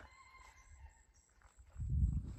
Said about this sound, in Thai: ที่นี่เนี่ย ไก่เยอะมากเลยพี่นะ